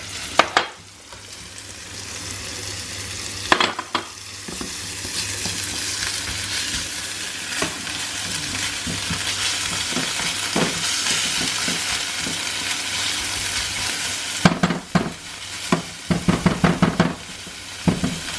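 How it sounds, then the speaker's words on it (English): Shallots and garlic sizzle loudly in a pan with bacon, a steady close frying hiss broken by spoon scrapes and stirring knocks, heavier toward the end. "We're going to add the shallots and the garlic."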